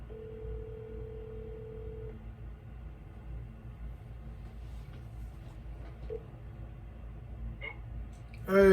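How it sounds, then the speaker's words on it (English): A telephone on a three-way call emits a steady tone for about two seconds followed by faint clicks and a short beep, heard over low line rumble with voices talking. "Hey, Mark, I'm on the other line with Matt, so I'm going to merge you in."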